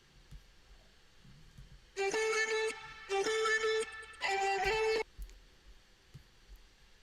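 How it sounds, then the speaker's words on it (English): Three short bursts of a bright, sustained vocal sample tone used as a fill in a beat play back to back, separated by brief gaps, standing out against a quiet background. "also I have this vocal filler in here"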